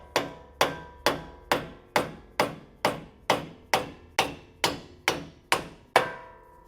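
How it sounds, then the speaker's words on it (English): A light hammer taps a metal strut mount on a 2024 Toyota Land Cruiser about twelve times in a steady, even rhythm, each strike crisp and close with a short ringing decay. "And that's a real light hammer."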